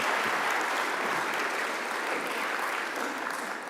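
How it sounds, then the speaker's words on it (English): A conference audience claps for a panel in a continuous round of applause, fairly faint and distant in a large hall, holding steady for several seconds. "Let's give them another round of applause."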